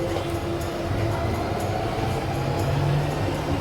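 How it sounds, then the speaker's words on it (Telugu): A London Underground train at a station gives a steady, loud rumble of rolling wheels and motor hum with faint screeches, continuous throughout with no speech. "మీకు ఊరికే సరదాగా మీరు ట్రైన్ కూడా చూస్తారు కదా అన్నట్టుగా ఊరికే నేను అలా చిన్న క్లిప్ యాడ్ చేశాను"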